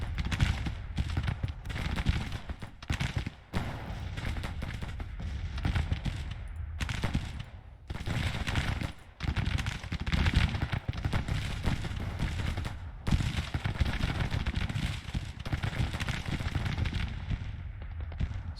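Dense, continuous musket and cannon fire rolls through a large battle in the strategy game Grand Tactician, with volleys overlapping in a steady loud din and only a few brief lulls.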